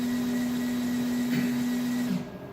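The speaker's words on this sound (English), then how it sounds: "So you can hear it putting soap in there again, and then it'll fill." Steady machine hum with a strong mechanical drone from a medical instrument cleaning machine's dosing pump adding soap, running close by, continuous before stopping near the end.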